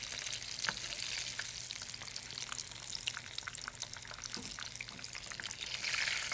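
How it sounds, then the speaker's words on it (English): Grapeseed oil sizzles and crackles steadily in a pan, with scattered sharp pops throughout and no voices. "So I'm cooking in grapeseed oil, which is one of my favorite oils for frying"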